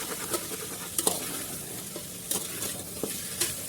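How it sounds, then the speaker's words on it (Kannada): A spatula stirs fried mutton with ginger garlic paste in a hot pan, giving a steady soft sizzle broken by several sharp scraping strokes against the metal. "ಚೆನ್ನಾಗಿ ಮಿಕ್ಸ್ ಮಾಡ್ಕೊಳ್ಳಿ."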